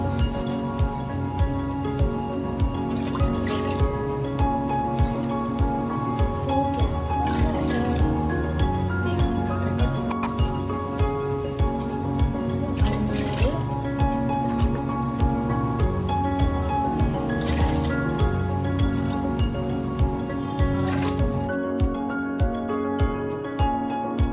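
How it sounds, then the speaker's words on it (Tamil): Water bubbling and popping at a rolling boil in a pot before rice is added for tomato pongal, a steady close churn of small bursts that goes on throughout. "இப்போ தண்ணி நல்லா கொதி வந்துடுச்சு."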